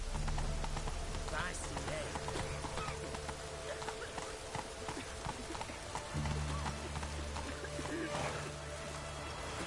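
Hooves of a galloping horse in The Witcher video game pound in a steady rapid rhythm, fairly loud and close, pausing briefly midway before resuming, mixed with ambient game noise.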